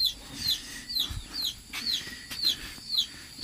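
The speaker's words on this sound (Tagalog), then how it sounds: "Manok po dito guys." Chickens kept at a rural home, with repeated short high calls and clucks recurring every half second or so over a quiet outdoor background with light ambient noise.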